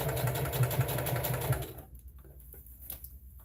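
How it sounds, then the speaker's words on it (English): A sewing machine runs steadily for about a second and a half, stitching around the top of a lined tote bag with a fast, even mechanical whir, then stops, leaving only a few faint clicks and handling sounds. "Now let's continue to sew around the top."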